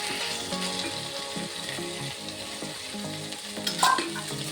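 Grated carrot is stirred and fried into millet upma with cashew nuts, giving a continuous soft sizzle with scraping stir strokes, close by, over a quiet tonal background.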